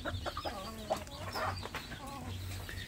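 Newly hatched native village chicks cheep and peep repeatedly inside a closed plywood box, a busy chorus of short, high, close chirps with no talking.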